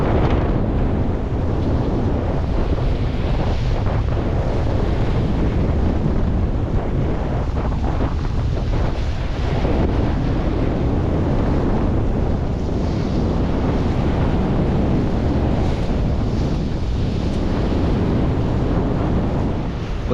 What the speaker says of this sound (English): Winds are up to 19 knots.